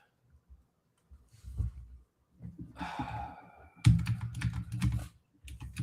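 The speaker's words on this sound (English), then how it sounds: "I was typing in marathon" Computer keyboard typing during a live-streamed fantasy video game draft, irregular bursts of clicking keys heard up close, with breathy sighs and a few louder clatters, no speech.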